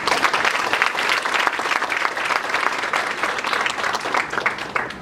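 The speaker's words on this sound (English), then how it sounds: "if you can all give a warm round of applause for the panelists and discussants" A forum audience gives loud, dense applause for the panelists and discussants, sustained clapping from many hands with slight swells throughout.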